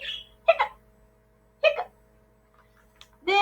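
A voice imitates hiccups during a pre-K reading of a Halloween story: three short, sharp hiccup-like vocal bursts spaced apart, close and clear over a quiet room.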